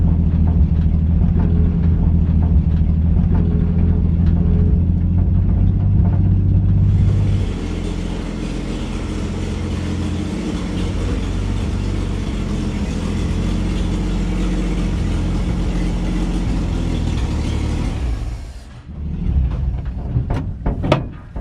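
A 1956 Chevy engine, not run in over 20 years, runs with a steady, loud mechanical drone for most of the stretch, then cuts off into clunks and knocks.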